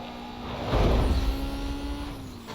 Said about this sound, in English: The opponent's car engines sound weird AF